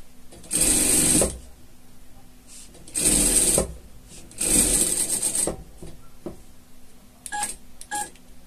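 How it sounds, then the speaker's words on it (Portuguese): Sewing machine stitching seams on a pet poncho, three loud close bursts of rapid stitching separated by pauses, with small handling clicks near the end. "Costura com costura aqui, tá? E vamos costurando."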